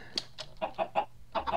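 Minecraft chickens on a vanilla chicken-processing farm give a series of short, close clucks in an uneven rhythm, about eight quick calls with brief gaps between them.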